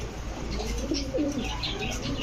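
A Pakistani teddy pigeon of an imported bloodline calls in repeated soft cooing phrases, close by, over steady background noise with faint chirps and rustling.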